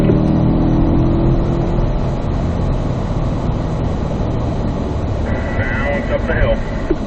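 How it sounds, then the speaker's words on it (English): A Corvette on a driving course pulls hard uphill, its engine roaring loud and steady close by. A shift into fourth gear comes partway through, and someone talks over the engine noise. "Accelerating up, we'll go fourth."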